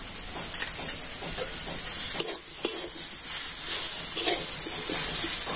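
Mixed vegetables and karai greens being stirred with turmeric powder in a pan, giving a steady close sizzle with scraping stir strokes throughout, no talking.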